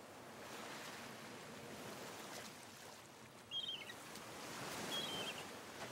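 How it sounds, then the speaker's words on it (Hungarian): Sea waves roar and wash onto the shore in a steady, faint wash of surf, with a light wind, no voices present. "A nap, a tenger zúgása."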